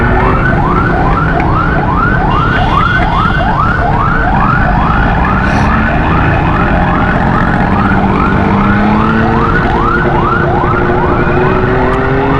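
An ambulance siren wails steadily and loudly in a rapid repeating yelp, heard amid a traffic jam in Karachi with a constant engine and traffic rumble beneath, and no talking.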